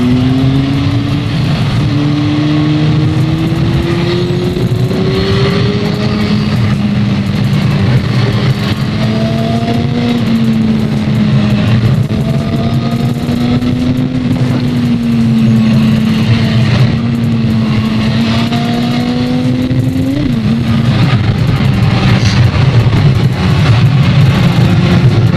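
A Honda 600 Hornet motorcycle engine revs continuously while being ridden, its tone rising and falling through the gears with steady loud wind noise throughout and no talk.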